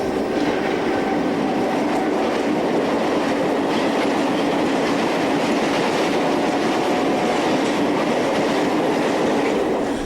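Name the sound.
Portuguese Railways 2500 class electric locomotive hauling northbound aggregate train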